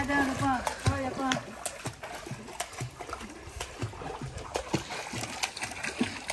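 A husky swimming in a small backyard pool: irregular splashes and sloshing water arrive in quick bursts, mixed with a person talking over them.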